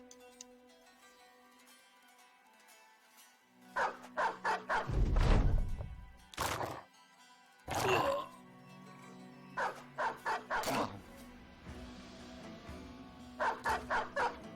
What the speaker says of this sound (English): Release another dog.